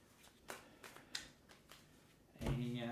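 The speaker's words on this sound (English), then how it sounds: "Let me shuffle these cards again." Playing cards being shuffled, quiet riffles and soft snaps close by, ending in a short burst of louder handling.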